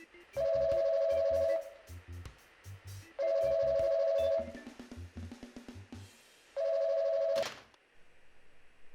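Three bursts of dual-tone keypad beeps from an automated telephone answering line, each a rapid string of electronic tones about a second long, separated by short pauses with faint background noise and a brief sharp beep near the end.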